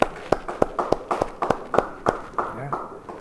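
A church congregation claps in a quick, uneven burst of sharp hand claps, close and fairly loud, with a voice briefly heard near the end.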